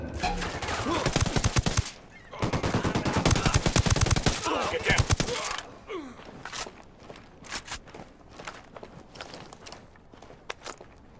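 Rapid bursts of automatic gunfire from a Ghost Recon Wildlands firefight, loud and dense for several seconds, then easing into scattered single shots and footsteps with occasional distant pops.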